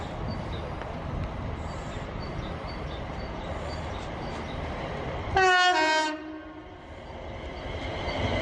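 A train rolls steadily through Wembley Yard with a continuous rumble, then a loud, brief horn blast sounds close by before the rolling noise settles and builds again.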